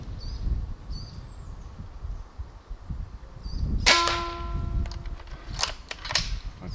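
Several sharp, fairly quiet air rifle shots pop at irregular intervals against faint background hiss, with a brief metallic ring after one shot; six shots in all.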